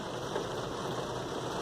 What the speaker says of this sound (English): It is raining like crazy today, like flooding rain.